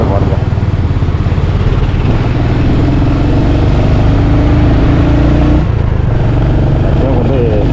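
Lorries descending the winding Bannari–Thimbam mountain ghat road, heard as a loud, continuous drone and rumble of engines with shifting revs close by.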